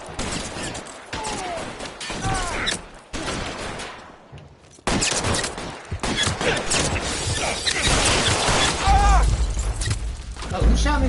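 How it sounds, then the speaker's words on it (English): Gunfire in the 1940s Los Angeles crime game L.A. Noire, with repeated loud shots and clattering bursts mixed with game dialogue and talking, getting denser and harder toward the end. "Oh, who shot me from behind?"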